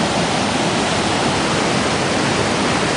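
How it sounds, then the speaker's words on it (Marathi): Snowmelt rushes hard down a mountain stream on the trail toward Mirror Lake in Yosemite, a loud, steady broadband roar of white water that stays constant and close throughout. "तर हे बर्फाचं वितळलेलं पाणी असं जोरात येत आहे वरून"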